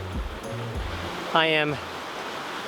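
Waves wash against rocks on a Seychelles shore, a steady broad rush of surf close by, while someone speaks briefly over it.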